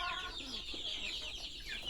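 Desi country chickens and chicks on a small village poultry farm give a steady stream of clucks and high peeping calls, close by and continuous.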